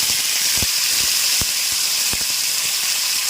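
Karonda berries and vegetables frying in hot oil in a home kitchen, giving a loud, steady sizzling hiss with scattered crackles and pops throughout and no voices.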